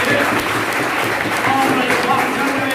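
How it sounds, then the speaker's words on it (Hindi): A crowd at a Bihar coaching-institute event honouring a NEET student applauds, producing loud, continuous, dense clapping that holds steady for the whole moment, with voices mixed in. "एक बार फिर से जोरदार ताली होनी चाहिए।"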